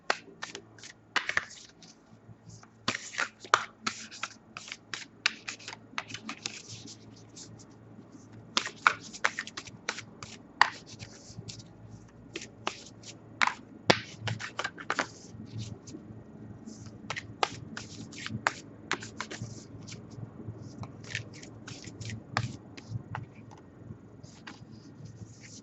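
A deck of tarot cards being shuffled by hand up close, bursts of crisp riffling and slapping card sounds in irregular runs, fairly quiet, no talk.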